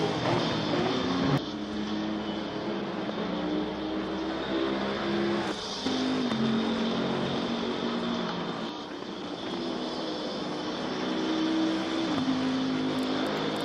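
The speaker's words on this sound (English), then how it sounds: "my voice being drowned out by the sound of the cars" Engines of GT race cars on Zolder circuit in a sim racing game drone steadily and loudly throughout, with pitch rising and dropping as cars accelerate and shift, and one pass after another blending into a continuous roar.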